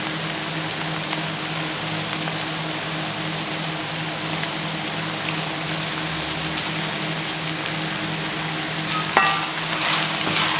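Tomatoes go into a pan of frying egg sauce, giving a steady, close sizzle with a constant crackling hiss throughout and a brief clink or stir near the end.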